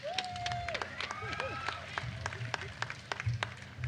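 An audience at a freshman convocation applauds a speaker coming onto the stage, with dense, sustained clapping that carries sharp individual claps throughout and voices calling out over it.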